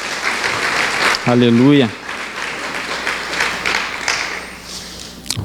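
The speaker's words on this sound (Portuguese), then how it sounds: "Você pode aplaudir Jesus, amém?" A church congregation claps together under a preacher's voice, with a sung-out exclamation rising above a broad wash of applause that carries on steadily throughout.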